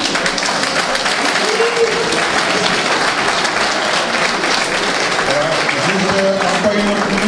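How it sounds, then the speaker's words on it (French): Sustained, loud audience applause fills an investiture ceremony for the president of the Union des Ivoiriens de New York, dense clapping holding steady throughout with a murmur of crowd voices underneath. "Il faut encore les applaudir très fort,"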